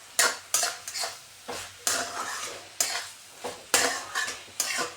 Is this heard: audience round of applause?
no